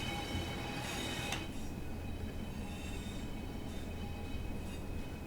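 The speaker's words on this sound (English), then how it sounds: "A bit of freight there going through." Freight train rolling past in Train Sim World on a South Wales route near Port Talbot Steelworks, a steady loud rumble of wagons with brief high wheel squeal.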